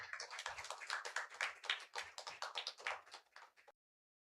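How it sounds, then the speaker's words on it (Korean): A congregation at a church service applauds to welcome a pastor to the stage, with dense, steady clapping from many hands lasting several seconds before stopping abruptly. "우리 식구님들께서 힘찬 박수로 우리 탁현철 목사님 모시겠습니다"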